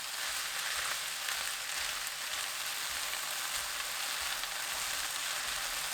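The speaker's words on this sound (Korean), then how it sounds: "당근, 양파, 다시마, 청양고추, 굴소스 4큰술 넣고 센 불로 2분 볶아주세요" Carrot, onion, kelp and hot green chili stir-fry with oyster sauce over high heat, making a dense, even hiss that continues without a break. No voices are heard.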